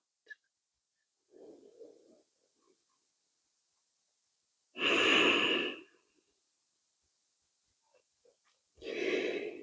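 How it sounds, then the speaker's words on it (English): During a yoga session, slow, loud exhalations come through close to the microphone, two long breaths out separated by quiet pauses, with a softer breath sound earlier. "Breathing out."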